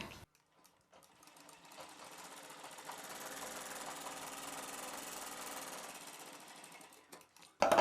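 A sewing machine stitches a joint along one side of a blouse piece, a steady mechanical whir that ramps up, holds for several seconds and winds down, with no voices.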